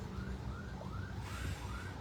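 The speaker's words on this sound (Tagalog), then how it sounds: "Kung kinakabahan ako pag mayroong mga sirena ng ganyan." A faint emergency vehicle siren wails in rising and falling sweeps in the distance over a low, steady background rumble.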